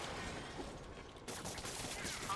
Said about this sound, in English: All units, we have officers pinned down by snipers.